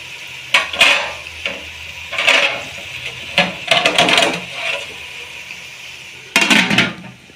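Vegetables for veg pulao fry and get stirred in a pan, with scraping and clattering strokes of a spatula coming in irregular bursts, loud and close, and no talking over them.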